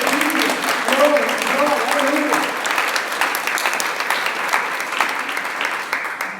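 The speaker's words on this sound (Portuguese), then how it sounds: "aplauda Ele" A church congregation claps loudly and continuously, a thick wash of hand claps with some voices or tones early on, slowly tapering toward the end.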